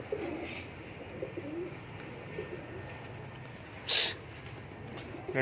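A male pigeon in a cage gives a single short, loud call near the four-second mark, with a quiet background of low rustling around it.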